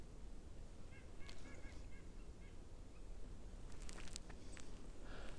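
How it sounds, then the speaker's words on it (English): A bird calls from a tree in a swamp forest at Keller Swamp in Pinchot State Forest, giving a few faint, rapid honking notes in short bursts over a quiet, hissing outdoor background, with sharper distant sounds toward the end. "There's a bird in a tree."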